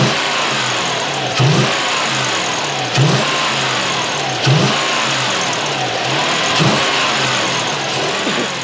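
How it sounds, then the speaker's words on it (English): A V8 engine in a Toyota Hilux, a 3UZ swapped into a 2013 model with a fuel pump fault, revs repeatedly from idle, loud and close, with rhythmic throttle blips every second or so. "I ride over throttle pedal so I can rev it out here"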